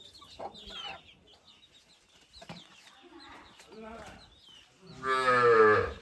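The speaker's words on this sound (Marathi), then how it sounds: "इकडे वासरू गोंबाटता" A calf moos loudly near the end in a quiet rural Konkan farm setting, after softer cattle and chicken sounds and some faint background activity earlier.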